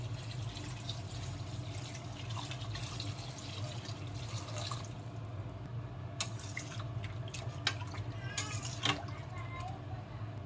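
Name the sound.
pouring water into pot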